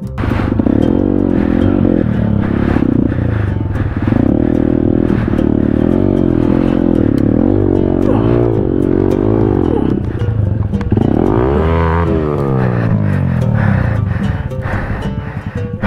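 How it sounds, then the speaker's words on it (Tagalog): A motorcycle engine strains and revs continuously as it struggles to climb a steep, rutted road with potholes, sounding loud and close, with the pitch rising and falling as the rider fights for traction. "mayroong hukay kaya hindi makabuelo ang motor"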